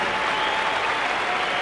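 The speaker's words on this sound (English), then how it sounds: "A huge crowd here cheering away" A huge stadium crowd cheers and applauds at a 1985 India versus Australia cricket match, a dense, steady roar filling the whole moment with no break.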